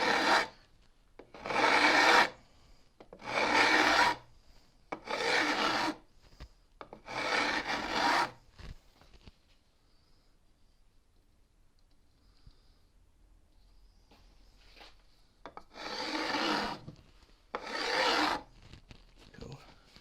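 A file rasps along the wooden edge of a guitar fretboard in repeated strokes, loud and close, in a steady back-and-forth rhythm with a long quiet pause midway before more strokes.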